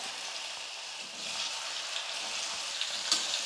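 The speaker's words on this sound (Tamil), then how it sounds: "எண்ணெயில் வந்து நல்லா ஃப்ரை பண்ணிக்கிட்டேன் நான்" Boiled elephant foot yam pieces fry in hot oil in a kadai, giving a steady, dense sizzle that holds at an even loudness close by, with no voices.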